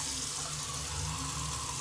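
Running tap water splashing in a sink as a face is wetted before shaving, a steady close hiss and splash with no talking.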